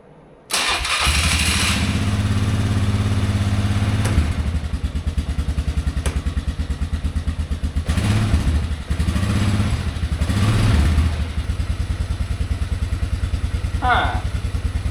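A motorcycle engine being worked on in a shop cranks and catches at once, then runs steadily with a loud, even idle and a few throttle blips, with faint clatter over the engine.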